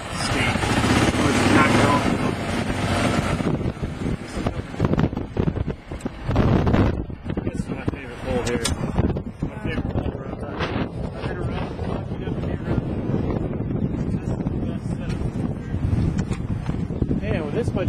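Strong wind buffeting the microphone on a golf course, a loud roaring rumble that gusts hardest at first and then keeps churning, with someone talking throughout.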